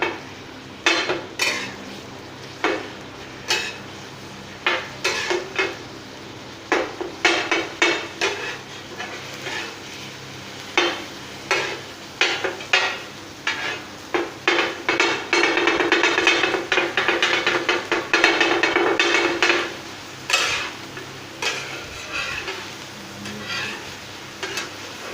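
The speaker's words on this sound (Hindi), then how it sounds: "अभी इसमें मैं कीमा शामिल कर लेता हूँ। कीमे को अच्छे से भून लेता हूँ।" Minced beef fries on a hot tawa with golden onions while a metal spatula clacks and scrapes in a rapid, irregular rhythm, over a continuous sizzle that swells louder in the middle.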